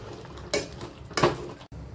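A spoon stirs pithla, a gram-flour dish, in a pan, giving two distinct metallic clanks against the pan over a soft background scrape.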